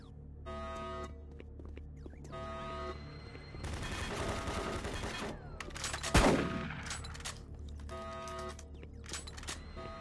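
Automated turret guns in Doom 3 unleash a sustained rattling burst of fire, then a sharp, loud impact, over droning electronic tones and alarm-like ambience.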